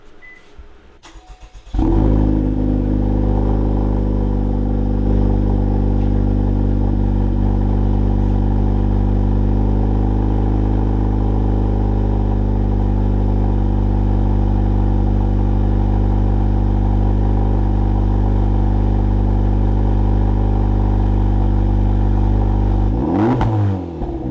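A 2023 Honda Civic Type R FL5 with an AWE Touring Edition aftermarket exhaust idles and revs steadily for a long stretch, deep droning rumble close by, ending with a sharp rev.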